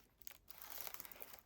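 Wrapping paper crinkled and handled up close, a quiet run of irregular crackling rustles for a second or so, no talking.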